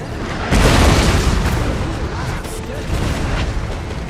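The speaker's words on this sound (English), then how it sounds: "preparing the assault by taking the target area under artillery fire during their march" Rumbling artillery fire and booms in a strategy game battle, a dense barrage of low blasts starting after a brief quieter moment and continuing as a steady thunderous roll.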